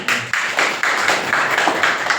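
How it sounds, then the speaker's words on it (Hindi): A clapping audience gives a hearty round of applause, with sharp, fairly close claps coming in rhythmic waves across the whole moment. "इनके लिए जोरदार ताली"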